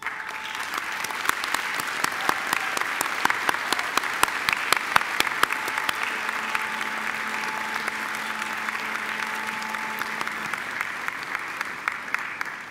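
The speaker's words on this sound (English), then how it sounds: "give them a mighty round of applause" Graduates at a university graduation ceremony give a long, steady round of applause to their family and friends, a dense crowd clapping continuously throughout with occasional sharper claps standing out.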